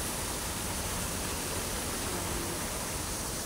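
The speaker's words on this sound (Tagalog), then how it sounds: "Falls, waterfalls." Waterfall in Shing Mun Valley, Hong Kong, heard as a steady, dense broadband rush of falling water, loud and constant throughout with no other sounds standing out.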